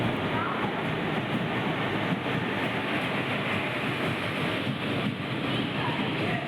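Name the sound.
train running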